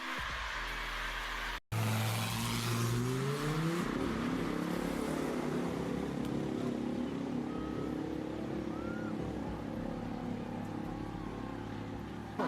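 GT3 race car number 85 on a racing circuit, its engine roaring loudly and rising in pitch through gear changes after a brief cut, then a sustained high drone that fades slightly.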